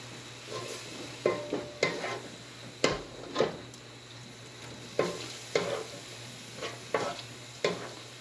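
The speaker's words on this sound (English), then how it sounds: "And now we're gonna add a can of Goya tomato sauce and give all that a mix." Goya tomato sauce is stirred into sizzling chicken in a pan for Cuban-style arroz con pollo, a steady fry hiss under repeated scraping strokes of a spoon, about a dozen close, uneven stirs.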